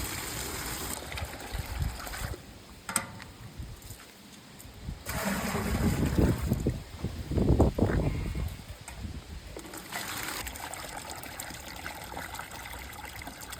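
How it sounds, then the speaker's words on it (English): Water draining out of a heating jacket on a cleaning unit, a soft trickling and gurgling flow that swells into louder splashing bursts midway, then settles back to a steady low rush. "So let's get this water out and let's have a look at these elements."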